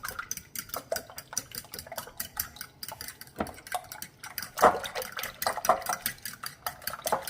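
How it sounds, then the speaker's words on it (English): Eggs being broken apart and whisked in a bowl for a breakfast casserole, a busy run of small clinking, tapping strokes of utensil against bowl over about seven seconds, close up with no talking. "Now I'm just going to break them apart and mix well."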